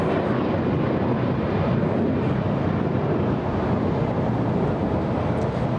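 Delta airliner on flight 1115 to New Orleans at LAX, heard as a loud, steady broadband engine roar that holds constant throughout, with wind rumble and no voices.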